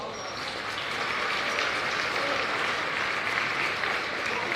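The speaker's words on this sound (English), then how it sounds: "Please give our officials a round of applause." A crowd in a high school gym gives a steady round of applause for the officials before a boys basketball game; the clapping is dense and continuous, with a faint murmur underneath.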